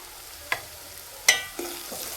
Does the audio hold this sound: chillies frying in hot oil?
yes